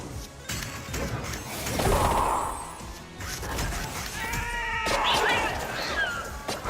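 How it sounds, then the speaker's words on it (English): Cat meows from the game Hell Is Us during a boss fight: two drawn-out, wavering cries, one early and one later, rising above dense, noisy game sound with crashes and whooshes. "Does or did Chip react to the cat meows in any way?"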